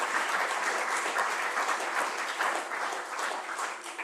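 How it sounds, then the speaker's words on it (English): Conference audience applauding after a scientific talk, a dense, even wash of many hands clapping at moderate level, steady throughout and slightly tapering at the end, with no voices over it. "we should give a big round of applause"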